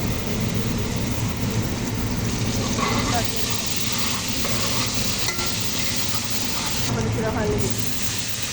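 Spice paste sizzles steadily in a pan with fried onion and garlic, a continuous loud hiss with faint stirring scrapes throughout.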